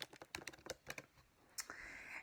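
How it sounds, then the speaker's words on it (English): Keys clatter on a computer keyboard while a name is typed into a worksheet, a quick irregular run of close, crisp clicks followed by a short pause and a final brief burst. "we can type in our name"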